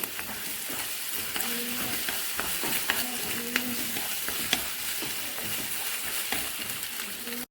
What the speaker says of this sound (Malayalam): ഇനി ഈ മുട്ടയെല്ലാം നല്ലതുപോലെ ഒന്ന് ചിക്കി എടുക്കണം